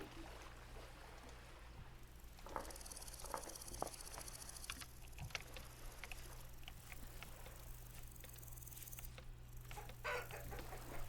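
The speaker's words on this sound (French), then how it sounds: "Mon Dieu, je viens de faire le saut à cause du poulet." Chicken clucking in the video game Vintage Story, faint scattered clucks and fowl noises over a low steady hum and light patter, distant and quiet with no talking.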